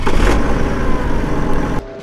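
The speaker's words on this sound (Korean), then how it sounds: "시동 먼저 한번 걸어볼게요." A BMW X5 40d diesel engine running with a low, steady rumble that cuts off abruptly near the end, loud and close, with no talking.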